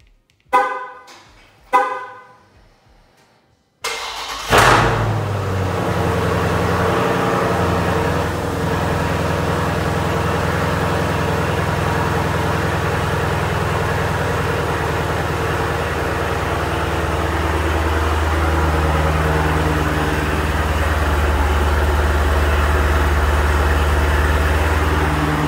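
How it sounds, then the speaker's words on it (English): A Dodge Challenger Scat Pack Widebody with a mid muffler delete does a cold start. A couple of short clicks come first, then the engine catches with a sudden loud roar and settles into a steady, deep, rumbling idle. "Little quick cold start on her."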